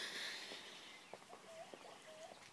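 Chickens on a property cluck and chirp close to a guest bedroom, a few short, faint calls standing out over a quiet, hissy outdoor background.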